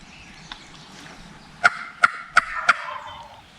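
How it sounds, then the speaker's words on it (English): A wild turkey gobbler gobbles in reply to a tube call during a hunt near a recently burned area, one rattling burst of four sharp, fairly close pulses over quiet outdoor ambience. "Given the silence, Daniel and Tyler thought the gobbler must have drifted away"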